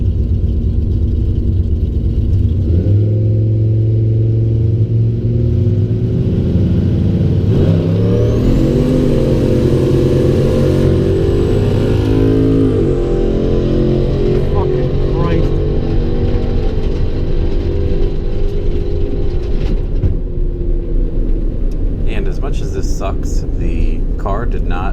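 Turbocharged truck running about 30 pounds of boost on a race track, its engine droning loud and steady, rising in pitch as it accelerates and then easing off near the end.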